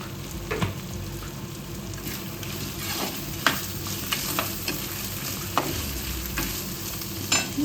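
A spoon stirring a sardine curry base of onion, ginger and chillies in an oily pan, a continuous low sizzle broken by irregular scraping clinks against the metal, no voices.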